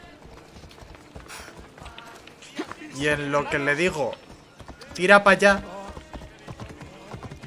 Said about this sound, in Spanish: Voy a llamar al caballo.